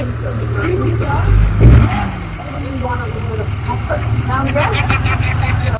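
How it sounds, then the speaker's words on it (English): A truck engine rumbles close by and builds briefly as it approaches at a mining site, with people talking over the noise. "We got the truck coming in here."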